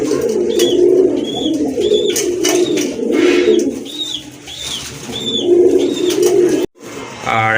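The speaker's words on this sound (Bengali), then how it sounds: "এখানে একজোড়া চকোগিরিজের কবুতর রয়েছে" A pair of Chakogiriz pigeons, sold as live birds, coo in layered, rolling phrases near the microphone, with repeated higher chirps over a steady bird chorus before a brief pause near the end.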